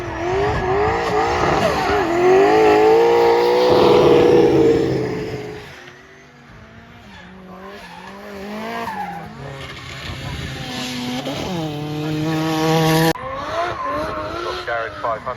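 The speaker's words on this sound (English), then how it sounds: "I've just been back at the track watching some drifting." Modified JDM cars drifting around a track, engines revving up and down in rising and falling sweeps with long tire squeal and skidding, loud and close, with voices in the background.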